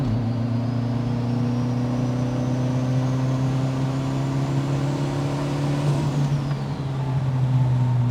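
Toyota MR2 Turbo pulling in fourth gear, with a steady, loud, close engine drone that climbs gently in pitch throughout, heard alone without talk.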